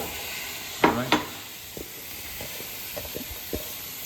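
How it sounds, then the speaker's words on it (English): Onions and pepper sautéing in a pan, a low steady sizzle broken by a couple of sharp stirring scrapes early on and softer clinks after, close up with no talking. "I'll start sauteing my onions and my pepper"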